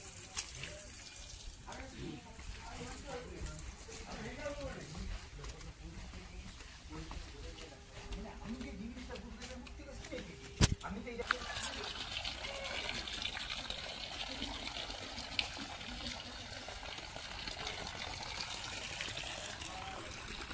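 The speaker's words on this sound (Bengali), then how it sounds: "দেখুন গাছে জল দেওয়া হচ্ছে" Plants being watered at an ashram temple garden in Bankura: a steady soft gush of running water, fairly faint, with people talking over it in the background.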